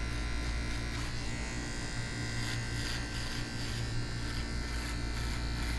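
Adjustable hair clippers, guard removed and blade fully closed, buzz steadily and close while cutting hair, one continuous electric hum with slight fluctuations and no voices.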